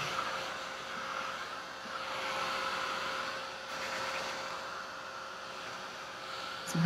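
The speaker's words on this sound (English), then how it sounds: "my last one that I gessoed, a little heat gun" A small heat gun dries gesso on a folder, giving a steady, close, airy blowing roar that continues unbroken without talk.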